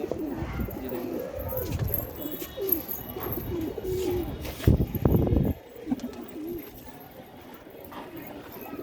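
Pigeons cooing at a pigeon sale in Agra, soft repeated coos heard close by with some rustling and a brief louder scuffle, faint voices in the background.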